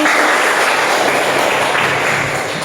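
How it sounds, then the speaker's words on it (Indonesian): Dense, continuous applause from a crowd fills the space, steady and loud throughout with no voices standing out. "Tepuk tangan lagi."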